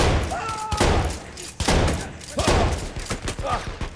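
Shotgun blasts and gunfire in the World War I shooter Battlefield 1, a series of loud, sharp booming shots repeating about every half second to a second, with game-battle noise and brief voices mixed in.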